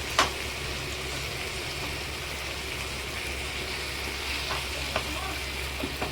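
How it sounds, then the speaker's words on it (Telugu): Fish biryani masala fries in a pan with a steady, close hiss like light rain, broken by occasional faint pops and stirs, with no talking. "కాసేపు ఇలా వేగనిద్దామండి."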